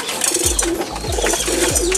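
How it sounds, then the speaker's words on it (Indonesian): Pigeons in a market cage coo in a repeated low, rolling rhythm, three throaty calls close by with soft background chatter and bustle. "Tuh, merpatinya cakep-cakep."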